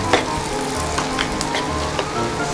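Butter and garlic frying in a pan, a steady close sizzle with faint crackling pops throughout, fairly loud and without talk.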